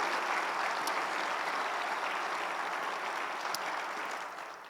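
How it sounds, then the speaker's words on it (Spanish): A church congregation applauds during a Spanish-language sermon, giving a continuous, even roar of clapping that holds steady and then fades slightly at the end, with no voices on top. "Vamos a dar un aplauso a Jesús, porque Él nos abrió ese camino precioso."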